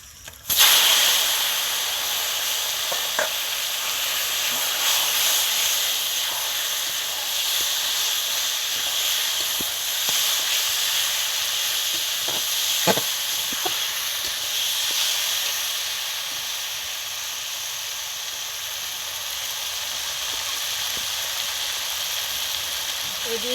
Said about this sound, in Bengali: এবার সেদ্ধ করে রাখা প্রচুর শাকটা দিয়ে দিচ্ছি